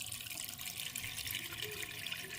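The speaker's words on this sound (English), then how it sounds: "Fill the pot with water, clean water" Clean tap water running into a cooking pot, a steady bright gushing hiss with a low churning undertone, close and continuous, no talking.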